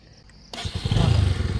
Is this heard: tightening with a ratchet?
no